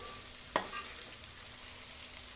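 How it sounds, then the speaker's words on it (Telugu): Vegetables fry in a pan and are gently turned, a steady close sizzle broken by one brief scrape of a spoon. "కొంచెం పైన లైట్గా అట్లాగా నాజూకుగా కలయబెట్టాలి"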